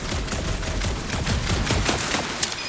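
Rapid bursts of gunfire from the Guardians of the Galaxy video game crackle continuously in a dense, loud combat barrage with overlapping shots and impacts.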